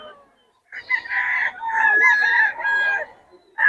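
A large rooster crows loudly and close by at a market in Bocaue, a long drawn-out call with a second crow starting right after, in otherwise quiet surroundings.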